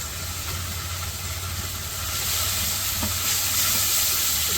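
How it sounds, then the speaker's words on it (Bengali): Salt, chili powder, turmeric and cumin powder frying in a pan as a village-style spice paste, giving a steady close sizzle with a low rumble underneath and a few faint clinks, no voices. "মশলাটা কষিয়ে নিই।"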